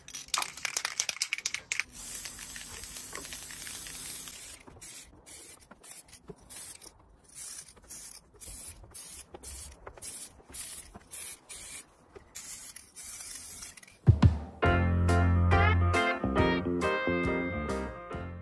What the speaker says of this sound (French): je pourrais venir ajouter de la peinture gris argenté en bombe